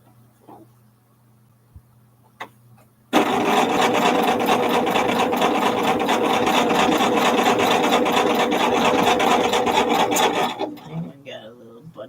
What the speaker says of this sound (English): I can start sewing these together